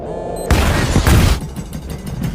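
A sudden loud blast erupts after a brief hum, followed by a crackling, rumbling tail that fades into scattered debris-like bursts.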